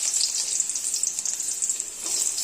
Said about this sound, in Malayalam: ചീനിച്ചട്ടിയിൽ ഒരു 2 ടേബിൾ സ്പൂൺ എണ്ണ ഒഴിച്ചതിന് ശേഷം നമ്മൾ സാധാരണ കടുക് വറുക്കുന്ന പോലൊക്കെ തന്നെ നമുക്ക് കടുക് ഇട്ട് കൊടുക്കാം